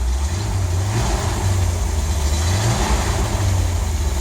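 A 1967 Ford Mustang V8 with dual exhaust runs steadily close by, its low burbling engine note rising and falling in gentle revs over the whole stretch, with no talking.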